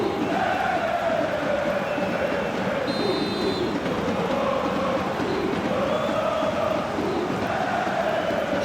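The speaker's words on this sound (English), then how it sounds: "You can hear the annoyance in the crowd." Dense, steady roar of a large football stadium crowd at a Champions League match between Paris Saint-Germain and Liverpool, a restless, annoyed murmur and whistling that rises and falls without letting up.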